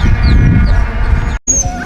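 Sled dogs wait at a race checkpoint for veterinary checks, a loud, close din of whining and yipping with steady low rumble, briefly cut off before resuming.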